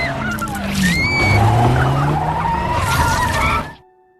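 A car swerves out of control, tires squealing and skidding loudly for a few seconds with engine and scraping noise, then cutting abruptly to near silence.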